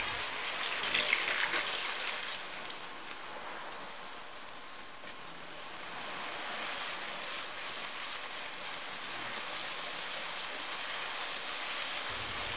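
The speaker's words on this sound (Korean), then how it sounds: "충분히 예열한 팬에 레몬그라스와 갈아둔 양념을 넣고 센 불에서 볶는다." Lemongrass and ground spice paste frying over high heat in coconut oil in a preheated pan, giving a steady, dense sizzle and crackle that holds at an even level throughout with no talking.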